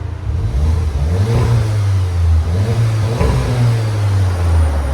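A VW Golf R engine revs loudly up and down several times, a deep throaty exhaust rumble rising and falling close by, with no talking.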